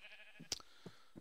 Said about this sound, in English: Got sheep out there.